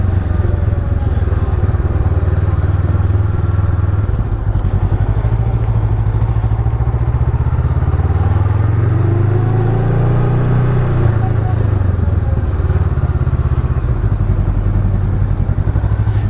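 A Honda CMX500 Rebel with a parallel-twin engine is ridden, its engine droning loud and steady throughout with a slight swell in pitch midway.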